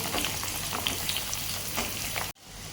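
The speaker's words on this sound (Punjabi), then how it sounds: "ਤੇ ਇਹਦੇ ਵਿੱਚ ਔਲੇ ਪਾਵਾਂਗੇ ਸਿਮ ਕਰਕੇ ਹੌਲੀ ਹੌਲੀ ਇਹਨੂੰ ਭੁੰਨਾਂਗੇ" Indian gooseberries (amla) roast slowly in hot oil over a low flame, giving a steady close crackling sizzle that cuts off abruptly near the end.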